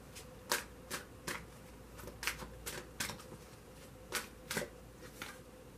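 Tarot cards are shuffled in quick riffling bursts, about a dozen crisp, close-up flutters spaced unevenly over a soft, steady background hum.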